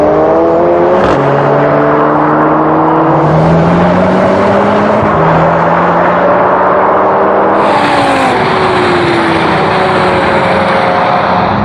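Audi RS3, Mercedes A45 AMG, Honda Civic Type R, VW Golf R and Ford Focus RS drag race, engines roaring loud and close as they rev hard through repeated rising gear changes, with no talking.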